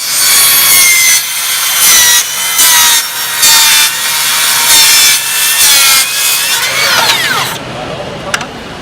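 A 7 1/4 inch, 24-tooth tri-metal brazed saw blade rips through wood and embedded nails in a series of loud, close, harsh cutting bursts, with grinding near the end as the blade winds down.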